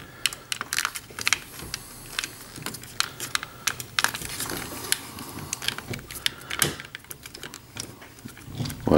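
Plastic parts of a Black Mamba LS-03 model kit click and snap together close up, with a run of sharp, irregular clicks and small rattles over handling noise.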